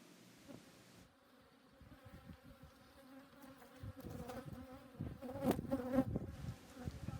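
Honeybees buzz around a hive frame holding honey and pollen cells, a faint, wavering hum with several bees droning close by, swelling louder toward the end, with no talk.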